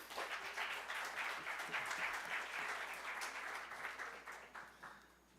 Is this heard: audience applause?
yes